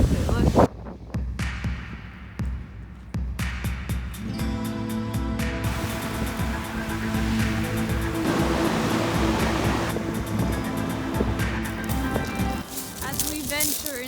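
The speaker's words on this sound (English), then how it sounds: "Look at those waves" Waves breaking on a black sand beach in Iceland on a windy day, a steady broadband surf roar with wind buffeting the microphone, while people talk over it throughout.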